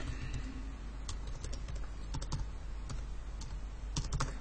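Steady close-up typing on a computer keyboard while entering PHP code, irregular quick key clicks running continuously under a low background hum, with no talk.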